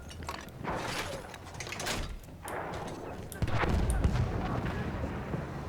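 A vehicle blows up on a Battlefield 1 battlefield amid artillery, with heavy booms and bangs rolling through the scene and a loud burst near the middle. Someone talks over the noise.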